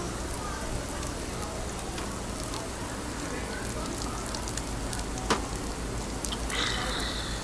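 Steady sizzling of beef tripe frying on a hot grill, a dense crackling hiss with occasional pops, continuous throughout.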